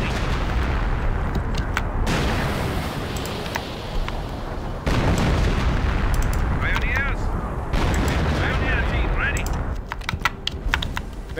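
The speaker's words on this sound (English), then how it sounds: "base is under enemy fire" Artillery and gunfire pound a base under attack during a WWII Company of Heroes: Tales of Valor battle, dense continuous rumbling with sharp cracking shots throughout, a brief lull near two and five seconds, voices occasionally audible underneath.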